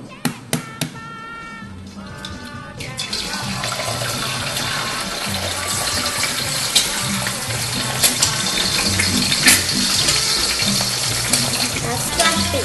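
Egg frying Thai style in a pool of hot oil, a steady loud bubbling sizzle filling the clip after a few brief clicks and taps at the start.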